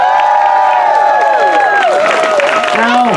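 An audience at a Shakespeare-themed stage performance applauds loudly and steadily, with many voices whooping and cheering in rising and falling tones over the clapping.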